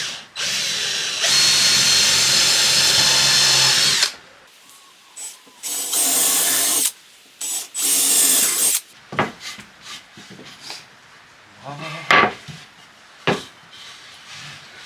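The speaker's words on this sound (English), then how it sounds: "just going to mark a line for my full width, and then drill some holes" A power drill boring screw holes into wood for a simple assembly bench, with two long loud bursts of drilling followed by shorter spurts, scraping and knocks of handling.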